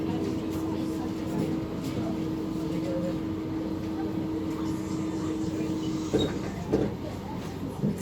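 A steady electric motor drone with a faint tonal hum fills a moving SMRT C151A train car in Singapore, constant and rumbling, with a few clunks near the end.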